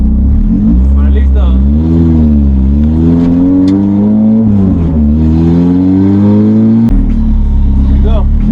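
A 1991 Honda CRX with an upgraded motor and transmission mount drives and accelerates, its loud engine note rising steadily through the gears, with a brief dip between shifts, close and continuous.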